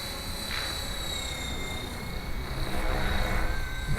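A Gaui X5 RC helicopter performs a forward flip high overhead, its rotor and motor giving a continuous whine and rushing drone that swells slightly louder toward the end.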